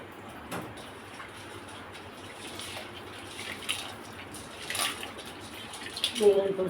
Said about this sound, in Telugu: మిగిలిన పులుసు కూడా వేసేస్తాను.